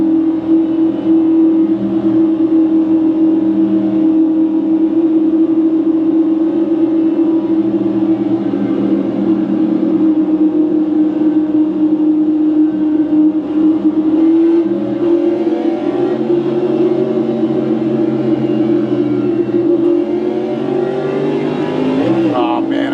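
A race car at Daytona in an 18-lap Draft Master Series race holds a steady, loud, high engine drone at full throttle, with slight pitch shifts and a quick rising sweep near the end.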